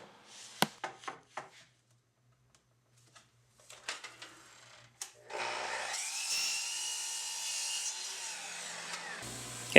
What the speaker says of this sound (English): I just cross cut it at the Capex miter saw